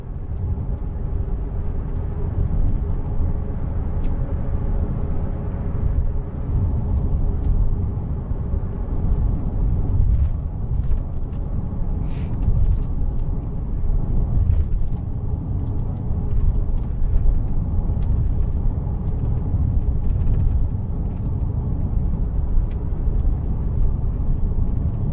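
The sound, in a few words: car driving on a road in Peru, in-car recording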